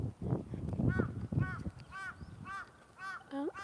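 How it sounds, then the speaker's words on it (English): A crow caws repeatedly along a path at sunrise where joggers pass. After some talking up close, the distinct calls come in an evenly spaced series of clear, moderately loud caws. "sounds like our crow friend might be following us"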